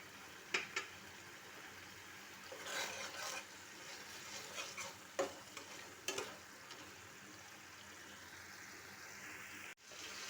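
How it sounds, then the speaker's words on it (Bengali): Masala for Kashmiri dum aloo is stirred and fried in a pan, a faint steady sizzle broken by a few soft scraping strokes of a spoon and a sharp knock near the end, with no talk. "মশলাটি আবার ভালোভাবে নাড়াচাড়া করে নিন"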